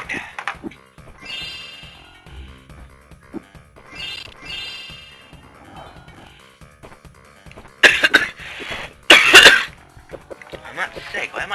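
Several sharp, loud coughs burst out near the end of a Crash Bandicoot 2 game clip, following a stretch of quieter vocal sounds and chirpy noises.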